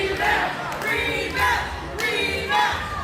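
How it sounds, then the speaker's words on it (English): Video game wrestling match crowd cheering, a steady roar that swells in repeated waves, with a commentator talking over it. "The crowd seems to appreciate it too."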